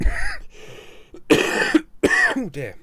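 A few close, loud coughs and throat-clearing bursts from a person, broken by short pauses, with a brief spoken exclamation mixed in.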